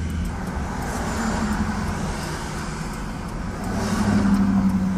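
A car drives past on a city street in New York, its engine and tire roar building steadily and swelling louder toward the end over a constant wash of traffic noise.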